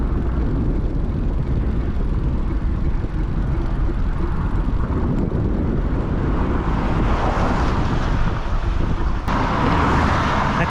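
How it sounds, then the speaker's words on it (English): Motor traffic crossing the Severn Bridge rumbles past a cyclist on a Brompton folding bike, a constant heavy roar of engines and tyres mixed with wind buffeting, swelling as vehicles pass close by. "I can actually feel the vibration of all the traffic as it goes by."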